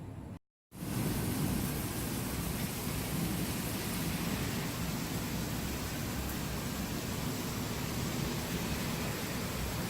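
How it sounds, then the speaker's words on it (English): Steady rain falls in a dense, continuous hiss throughout, loud and unbroken after a brief gap at the start, with no voices. "I'm gonna check out the rain."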